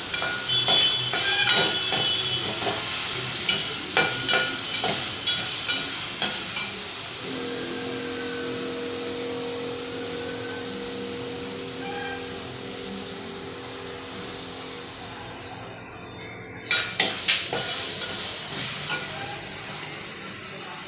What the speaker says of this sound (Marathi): ठेचलेलं आलं लसूण घालूया. आलं लसूणही छान परतवायचं आहे.